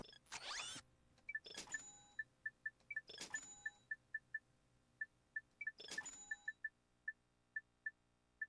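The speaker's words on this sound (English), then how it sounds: "We are gaining a lot of bolts" Bolts being collected in Ratchet & Clank: Going Commando: a rapid run of bright, evenly spaced chiming pickup blips, mixed with a few louder whooshing bursts, clear and without any talk.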